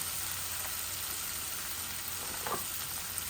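Onions fry in a pan, a soft, steady sizzle and hiss with a faint stirring scrape partway through, quiet and without any voices.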